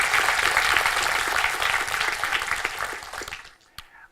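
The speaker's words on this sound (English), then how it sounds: "Let's give them a quick round of applause" A lecture audience bursts into sustained applause at a talk on procrastination, a full even wash of clapping that gradually tapers off, with a few last claps trailing at the end.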